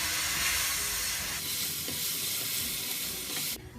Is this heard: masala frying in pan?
yes